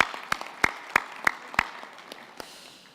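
A handful of sharp, evenly spaced claps ring out at a university winter graduation ceremony, a sparse rhythmic clapping over a quiet hall that tapers off.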